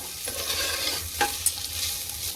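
Cashews and raisins sizzling in hot oil with green chillies in a pan while making vegetable pulao, a steady soft frying hiss with a few light stirring clicks.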